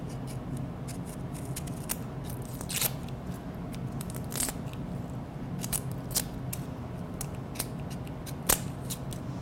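A knife cuts the ends off an onion and its skin is peeled away: crisp snips, crackles and papery crunches at close range, irregular and fairly faint, with no talking.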